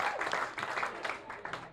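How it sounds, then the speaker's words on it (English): A concert crowd claps in a steady rhythmic beat for under two seconds, rather faint and a little distant, with no voices standing out. "You feel that clapping."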